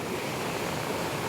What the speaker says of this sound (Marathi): आम्ही आलो आहे मालवण बीचवर.